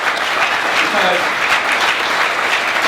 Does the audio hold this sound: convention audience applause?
yes